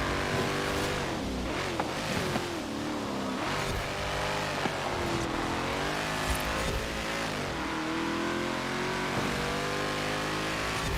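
A 1996 HSV GTS-R racing in Forza Horizon 4, its engine holding a loud, continuous drone that rises and falls as the car shifts and turns, with faint tire squeal now and then and no pauses throughout.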